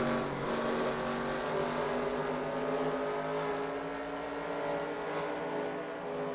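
Race cars circle a short track at Orange County Fair Speedway during a Super 6 Short Track Series race, a steady, dense engine roar holding at moderate distance without a break.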